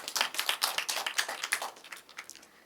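Student audience at a girls' high school debate on filial duty applauds in a quick burst of many hands, crisp and close, thinning and fading out over a few seconds.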